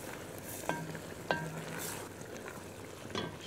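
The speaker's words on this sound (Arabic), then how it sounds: "بنحرك" A spoon scraping and swirling through meat broth in a cooking pot, soft and close, with a few sharp clinks against the pot's side over a low steady simmer.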